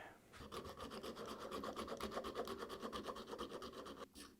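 A needle file rasps across a resin part in steady, rhythmic back-and-forth strokes, close and fairly quiet, about a dozen even scrapes before stopping.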